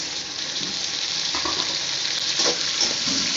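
Tomatoes frying and stirred in a hot pan with green chillies while cooking a semiya dish, a continuous close sizzle with a few soft scraping stir strokes.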